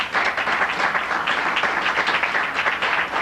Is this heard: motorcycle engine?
no